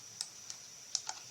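A few light clicks on a computer keyboard, four quiet isolated keystrokes spread over about a second with no talking.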